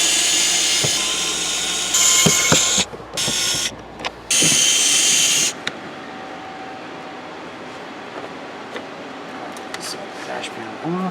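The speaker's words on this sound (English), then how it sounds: "there's 3 screws that you got to take off to take the dash panel off" A power driver whirs in short bursts while taking out the dash panel screws on a Lexus IS300, close and loud, with pauses between runs and a voice talking nearby.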